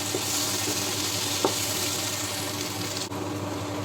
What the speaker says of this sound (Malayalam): ഈ വെളുത്തുള്ളിയുടെ ആ പച്ച മണം പോകുന്നത് വരെ ഒന്നും കൂടെ നമുക്ക് നന്നായിട്ട് ഇളക്കി കൊടുക്കാം.